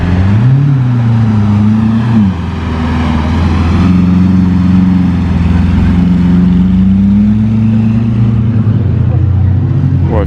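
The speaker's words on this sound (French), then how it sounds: "Ouais, elle fait du bruit la 488 là, elle n'est pas d'origine." A Ferrari 488 Pista with a non-stock exhaust revs loudly and close by on a Monaco street, its engine note holding steady with small rises and falls.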